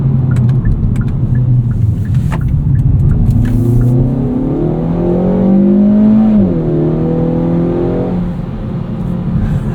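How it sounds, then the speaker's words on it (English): A 2024 Kia Forte GT with dual-clutch transmission in sport mode revs up under acceleration, a loud, close engine drone climbing in pitch through shifts with audible induction noise and a steady rumble, no talk. "That sounds pretty good. There's a bit of induction noise in there."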